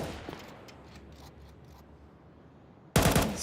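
Gunfire in a competitive Counter-Strike match, sprayed through a smoke grenade. After quiet, muffled ambience, a loud, sudden burst of rapid automatic shots breaks in near the end.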